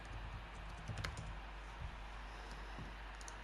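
Quick, light keystrokes tapped out on a computer keyboard in a short burst, close and fairly quiet, with no talking.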